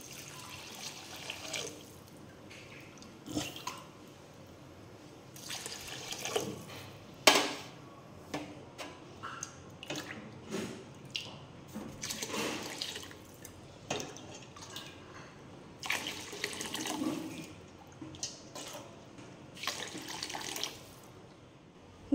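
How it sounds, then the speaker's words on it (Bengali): Hot water is poured from a container into rice in a pan for a Bengali hilsa pulao, a close, intermittent splashing and trickling that comes in uneven bursts for over twenty seconds, with no talk. "এখন জল দিয়ে দেবো যতটা চাল তার ঠিক ডবল জল দেবো।"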